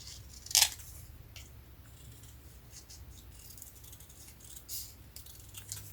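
Scissors snip through a paper card, one sharp close cut followed by faint rustling and small handling clicks.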